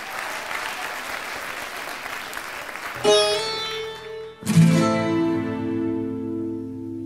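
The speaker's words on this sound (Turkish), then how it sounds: "Alkışlar." Applause from a crowd fills the first few seconds, then gives way to loud sustained music.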